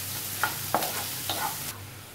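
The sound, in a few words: chopped onion frying in pan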